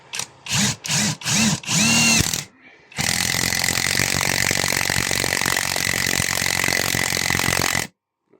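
A cordless 12V impact driver under heavy load: several short bursts of whirring, then a long continuous buzzing, hammering run that drags and fails to drive, stopping abruptly; close and loud.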